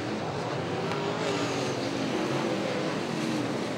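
A race car engine drones steadily at a distance at Sydney Speedway, a continuous roaring hum with a faint rising and falling pitch as it travels around the track.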